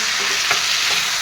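Cauliflower and tomato fry in a hot pan while being stirred, a dense, even sizzle with scraping turns of the spatula, close and continuous, no talk.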